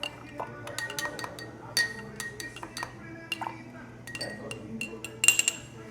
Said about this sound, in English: Now we're going to stir again.